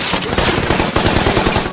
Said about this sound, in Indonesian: tiba-tiba mendengar tembakan berbunyi keras dari salah satu marinir yang sedang berjaga